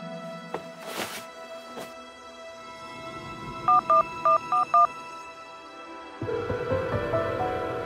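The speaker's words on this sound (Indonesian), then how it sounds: "hubungi Simon" A telephone keypad gives five short, evenly spaced dialing tones, loud and close, with faint rustling and movement before and a low hum rising afterward.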